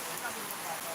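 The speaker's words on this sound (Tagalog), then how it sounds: "Ang ganda ng ulan, oh." Rain falls as a steady, dense hiss of drops, evenly spread and moderately faint, with no talk over it.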